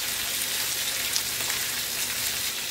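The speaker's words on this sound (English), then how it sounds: "Gonna saute these until they go nice and pink" Shrimp sauté in a hot pan, giving a steady, close, bright sizzling hiss that holds evenly throughout.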